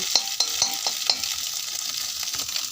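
Potatoes frying in a pan before pasta goes in, a soft continuous sizzle broken by a few light scraping stirs near the start, no voices.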